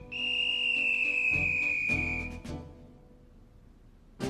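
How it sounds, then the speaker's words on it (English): A whistle sounds at the door in a cartoon scene, a long sustained shrill tone lasting about two seconds, overlaid by several music chords, then a fading tail. "a whistle sounded at the door"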